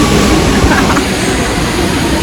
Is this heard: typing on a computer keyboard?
no